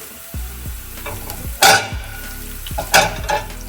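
Curry leaves and green chillies sizzle in hot oil in a pan for mulberry pickle, a steady fry hiss broken by a few sharp spatters and scraping stirs of a spoon, close up with no talk.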